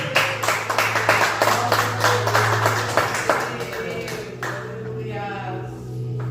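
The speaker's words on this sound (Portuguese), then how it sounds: "Uma salva de palmas para Jesus." A church congregation claps for Jesus during a Portuguese sermon, brisk rhythmic clapping that fades out after about four seconds, leaving a sustained musical tone beneath.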